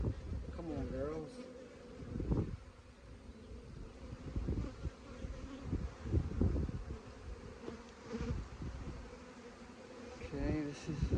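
Honeybees buzzing around an opened hive during a hive split, a continuous close swarm drone with fluttering bursts as bees pass near, faint wind on the microphone and a person speaking quietly at times.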